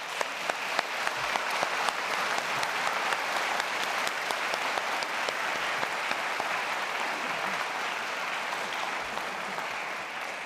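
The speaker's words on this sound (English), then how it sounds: "Please join me in giving them a round of applause." Sustained applause from an audience at a college honors convocation for student award recipients, steady and dense clapping throughout, moderately loud and without speech.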